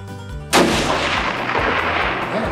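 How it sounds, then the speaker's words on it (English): A single rifle shot fired at a long-range target about 340 yards away on a mountain, one loud sharp crack followed by a long rolling echo across open terrain. "I'm shooting over there."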